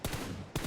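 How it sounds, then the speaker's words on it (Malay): Gunfire from a shooter video game with a QBZ rifle at long range, two sharp broadband shots about half a second apart, each followed by a dense, sustained rumble. "Tembakan jarak jauh."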